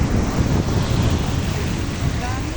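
Steady wash of sea surf at a beach in Bicol, Philippines, with low rumbling wind buffeting the microphone, continuous and fairly loud throughout.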